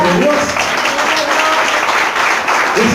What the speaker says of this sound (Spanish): Den una ofrenda de palmas a nuestro Dios.